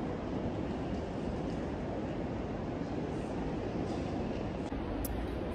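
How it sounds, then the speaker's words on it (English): Riding aboard a Gautrain electric train in Johannesburg, a steady broadband rumble and rush of rolling stock fills the cabin, constant and fairly loud, with a faint high tone appearing near the end. "this is my first time that I'm going to use an electric train"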